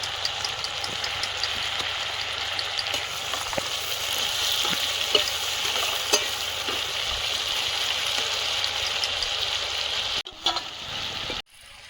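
Chopped onion, ginger and spices sizzle and fry steadily in hot oil in a pan, with a dense, continuous crackle up close and occasional stirring clicks and scrapes, cutting off abruptly near the end.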